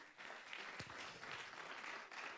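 An audience at a day's opening event applauds the festival's partners, a faint, distant wash of clapping from a crowd that holds steady for a couple of seconds.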